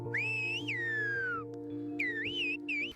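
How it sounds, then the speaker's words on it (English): Melodic whistling of Silbo Gomero, Spanish encoded into whistles, with sliding pitch contours over a steady low hum; a long swooping phrase, a pause, then shorter rising and falling whistles. "technically the whistly version is called Silbo Gomero, but it's encoding Spanish into whistles"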